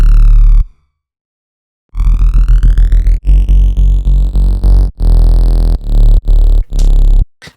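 Dry Serum synthesizer patch with no post-processing, a loud, buzzy synth note followed by a short silence, then a rhythmic run of choppy, stuttering notes with abrupt cuts.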